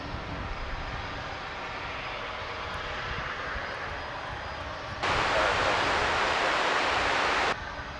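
At Dallas/Fort Worth Airport, airliner jet engines roar as a continuous broad rumble, then swell abruptly louder for a couple of seconds before dropping back to a steady distant drone.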